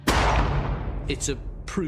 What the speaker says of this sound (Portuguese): Goebbels dá o golpe de misericórdia, um tiro na nuca